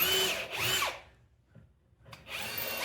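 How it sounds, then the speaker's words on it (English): A power drill whirs loudly in two short bursts with a brief quiet pause between, its pitch bending as it widens a hole in a speaker cabinet nearby. "What I'm going to do is I'm going to drill a bigger hole"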